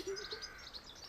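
Birds make faint, brief high-pitched chirps and a soft call at their nest, quiet and close, lasting only about a second.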